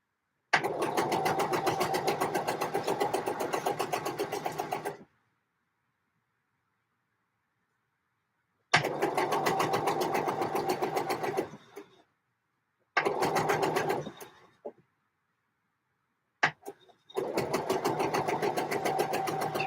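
Domestic sewing machine stitching a dress strap in bursts: a long steady run of rapid needle chatter, a pause, then several shorter runs and a final sustained stretch, close and loud with no talking.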